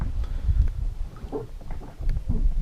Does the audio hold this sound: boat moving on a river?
yes